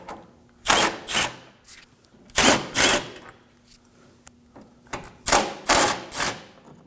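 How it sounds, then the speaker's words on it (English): Ratcheting tool backs out 10mm bolts from the radiator support of a 2014-2020 Acura MDX, coming in several loud bursts of rapid clicking separated by short pauses, close up with no talk. "we're going to be removing these 4 10mm bolts"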